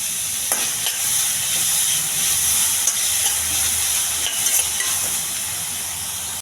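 Curry leaves, onion and green chili fry in a pan, a bright continuous close sizzle with a few stirring clicks and spoon taps over a steady hiss.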